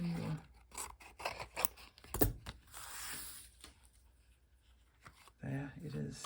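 Scissors cutting paper for a craft project, a series of close, quiet crisp snips and rustles in bursts, with a person speaking at the start and end.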